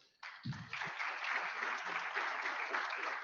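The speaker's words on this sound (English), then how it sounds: "Judy deserves a round of applause." Audience applause in a lecture hall for a colleague named Judy, a steady wash of clapping from many hands that rises after a brief word and continues unbroken at even loudness.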